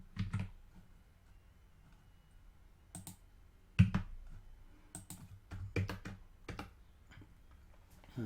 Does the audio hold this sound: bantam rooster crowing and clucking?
no